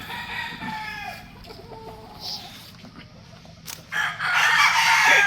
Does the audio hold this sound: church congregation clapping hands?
no